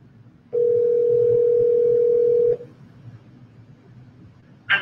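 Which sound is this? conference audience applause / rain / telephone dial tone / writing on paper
telephone dial tone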